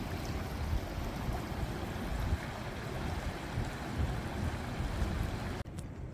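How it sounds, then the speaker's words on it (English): Steady rushing flow of the Little Gunpowder River in Gunpowder State Park, a broad continuous wash of water noise close by, alone with no voices, cutting off abruptly near the end. "this is the little Gunpowder River"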